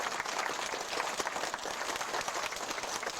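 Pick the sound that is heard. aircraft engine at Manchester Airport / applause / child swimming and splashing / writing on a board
applause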